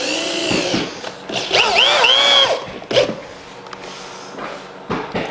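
A power drill drives 3-inch 10 gauge star-head deck screws into a rotted floor under repair, its close whining motor rising and falling in pitch, followed by a knock and quieter handling noises.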